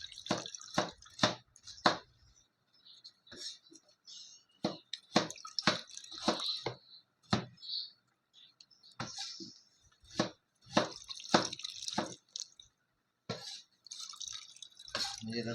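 Ginger juice falls through a strainer in quiet, irregular drips and small trickles, close and clear, with short silent gaps between bursts of drops.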